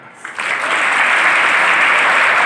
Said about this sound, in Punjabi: ਇਹਨਾਂ ਵਾਸਤੇ ਤਾੜੀ